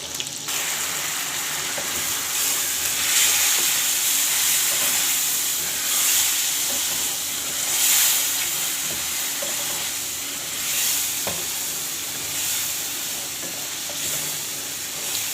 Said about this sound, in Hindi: थोड़ा सा पानी शामिल कर देंगे ताकि हमारा मसाला जले ना।